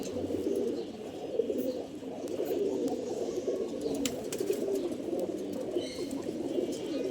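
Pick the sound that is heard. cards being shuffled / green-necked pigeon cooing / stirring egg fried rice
green-necked pigeon cooing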